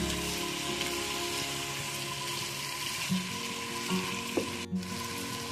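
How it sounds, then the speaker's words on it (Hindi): Ajwain seeds sizzling in hot oil with arvi, a steady close crackling fry that holds evenly throughout, with a faint clink near the end. "ये मैं अजवाइन डालने लगी हूँ"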